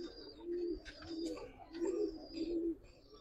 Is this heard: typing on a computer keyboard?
no